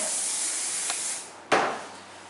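Two short bursts of hairspray hiss close up, the second sharper and louder, with quiet pauses around them.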